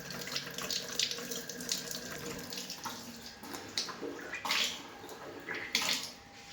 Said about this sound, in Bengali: হাতটা ভালো করে ধুয়ে নিই।